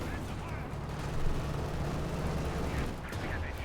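Field gun fire in the video game Company of Heroes 2, a dense run of battle noise with overlapping gunshots and booms, loud and steady through the whole stretch, a couple of heavier reports rising out of it.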